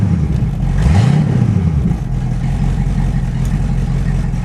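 A 1969 Ford Mustang Mach 1 engine idles loudly with a deep rumbling exhaust, briefly rising in pitch as it revs before settling back to a steady drone.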